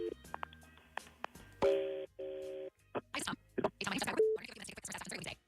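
Telephone keypad dialing tones for a call on the KDWB radio show, a run of short DTMF beeps in irregular bursts followed by longer ringing tones and clicks, clear and close.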